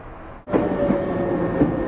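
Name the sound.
riding a train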